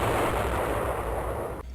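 A torpedo explodes on a submarine in a video game: a heavy, roaring blast with a broad crackling rumble that holds for over a second, then cuts off abruptly.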